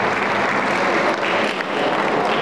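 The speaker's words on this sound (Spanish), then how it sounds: "Fuertes los aplausos para las personas que están en esta mañana tomando el tiempo." Dense, steady applause from an audience at the opening ceremony of a karate tournament, loud and continuous throughout with no voices standing out.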